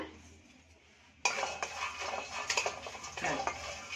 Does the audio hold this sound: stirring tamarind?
yes